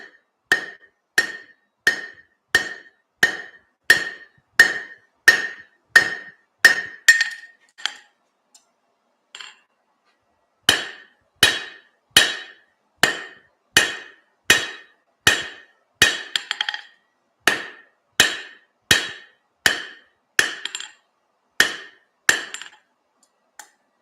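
A hammer strikes metal on an anvil while forging a small pair of dividers: loud, ringing, evenly paced blows in two long runs, with a brief pause between them.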